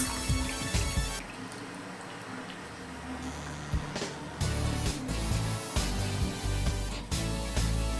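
Potato slices for homemade chips dropped into hot water, giving scattered wet plops and drips with small liquid splashes and some clatter, fairly close and without talk.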